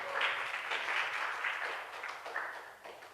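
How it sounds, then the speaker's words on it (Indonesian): A church congregation applauding during a sermon, a steady wash of clapping that stays moderately loud and somewhat distant throughout, with no voice on top. "Berikan tepuk tangan yang meriah sama Tuhan"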